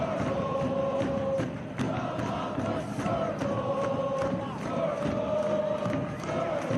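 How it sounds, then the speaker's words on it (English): Home fans at a USL Cup soccer match in Boise roar and chant, rhythmic waves of crowd voices rising and falling continuously across the stadium. "Boise crowd urging its 11 to cut the deficit in half."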